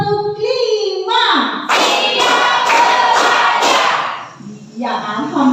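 Students in a school classroom clap in unison on a count, a loud, thick burst of many hands with a few quick beats, with voices before and after.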